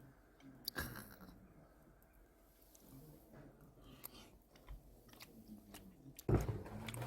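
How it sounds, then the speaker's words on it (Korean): Someone eats grilled catfish up close, making quiet, irregular chewing and biting sounds with a few sharper crunchy bursts against a soft, low background. "오늘 메기구이 한번 만들어 먹어봤는데"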